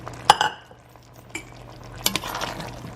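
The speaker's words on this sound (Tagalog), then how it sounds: "And then mix it well again." Spoon stirring coconut milk with ground pork, onion, garlic, ginger and acorn squash in a metal pot, a few clinks and scrapes against the pot close by, over a low steady background hum.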